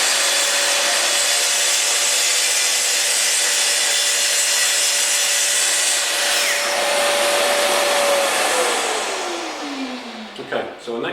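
A Festool TS55 REBQ plunge-cut saw slices through wood, its loud steady high whine holding for about eight seconds before the motor winds down as the cut ends, with a few clunks at the finish.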